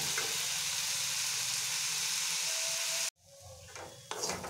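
Potatoes and beans frying in a pan make a steady close sizzle with faint stirring, which cuts off sharply about three seconds in and gives way to quieter, intermittent scraping and hiss.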